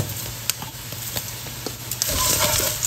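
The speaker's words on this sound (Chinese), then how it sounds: "把辣子和麻椒的香味炒出来" Cut chili peppers with sugar and cumin stir-fried in a pan over the lowest heat, a soft continuous sizzle broken by repeated scraping stirs and light clicks of the spatula, growing a little louder near the end.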